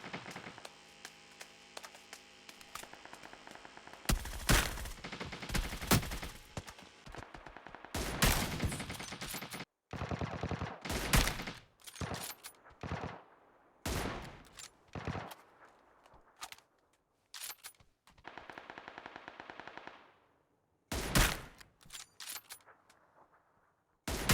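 Gunfire in the mobile game New State Mobile, in a players-versus-AI mode, comes in repeated bursts of rapid, loud shots separated by pauses, over a steady electronic hum.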